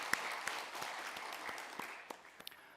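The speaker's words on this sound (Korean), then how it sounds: "박수로 영광 돌리십시오." A church congregation claps in praise after the choir's singing at a Sunday service, a moderately quiet, scattered applause with a few sharp individual claps standing out near the end.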